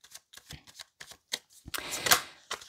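A Rider-Waite tarot deck is shuffled close by, with scattered soft card taps and riffles building to a denser, louder flurry of cards before a final tap.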